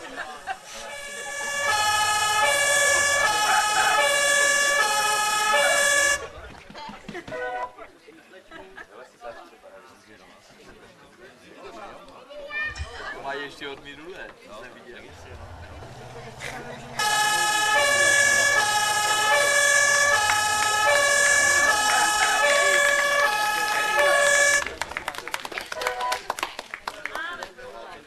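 A two-tone fire engine siren wails loudly at a maypole-felling festival, fading out midway and returning later, with people talking throughout.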